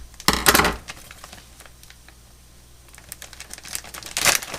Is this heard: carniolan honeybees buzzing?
no